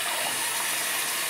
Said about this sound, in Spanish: Venga, vamos a echarle el agua ya.